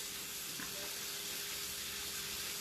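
Steak frying in pan drippings for country fried steak, giving a steady close sizzle with constant hiss and faint crackles, alone and uninterrupted throughout.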